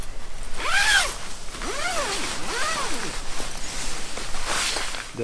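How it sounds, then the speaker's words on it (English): The nylon zipper on the inner door of a Hilleberg Keron 4 GT tent is pulled up close. It gives a loud first rasp, then three or four quicker sweeping zips, and a final pull near the end. "The zipper runs all the way across the top and across the bottom, so you can fully roll it away."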